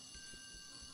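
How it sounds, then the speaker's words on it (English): An alarm goes off indoors, a thin steady electronic tone that is faint and continuous for a brief second, with low muffled thumps beneath and no talking. "There's an alarm!"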